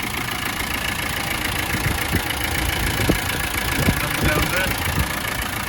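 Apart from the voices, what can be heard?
Land Rover Defender 90 200TDi diesel engine idling warm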